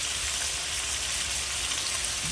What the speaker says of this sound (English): we're just gonna saute these like for 2-3 minutes